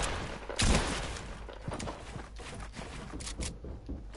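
An SMG sprays gunfire in an online video game duo match, with a loud close burst near the start followed by quicker, scattered cracks and rattling.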